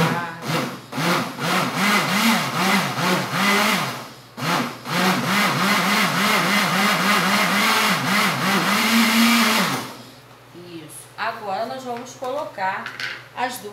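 A kitchen blender whirs loudly in repeated bursts while mixing homemade vinegar soap with powdered soap, made without oil or caustic soda, pausing briefly between runs, then stops as someone speaks.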